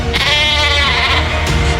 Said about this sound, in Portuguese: Quando a ovelha ouve a voz do seu pastor, ela grita.